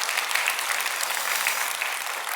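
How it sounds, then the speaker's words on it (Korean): Church congregation clapping for an elder in a Korean church service: dense, steady applause from many hands, close and loud, filling the whole moment without voices. "우리 장로님 미리 한번 박수 한번 해주시면 고맙겠습니다."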